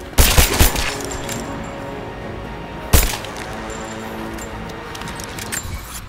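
Pistol shots in Rise of the Tomb Raider: a quick burst of sharp cracks at the start and another loud single shot midway, with a steady low game ambience between them.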